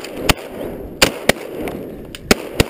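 Shotgun blasts ring out at ducks during duck hunting, about five or six sharp, fairly close cracks in an irregular volley over a few seconds, one noticeably fainter, over quiet outdoor background.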